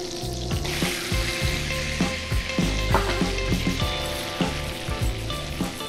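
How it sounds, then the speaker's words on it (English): A stick of butter and brown sugar sizzle loudly in a hot pan, a continuous crackling fry with small spits and pops, over steady background music. "First, I'm gonna start off with one stick of butter. Put it in a hot pan."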